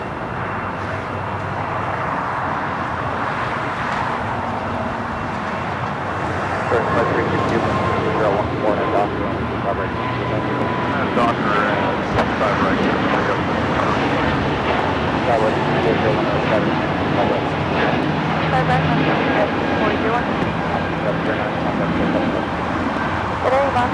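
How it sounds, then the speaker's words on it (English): An Airbus A330neo from Detroit at LAX rumbles steadily with a jet roar that swells in the background, while people talk over it throughout. "Oh, it's a 330 Neo from Detroit."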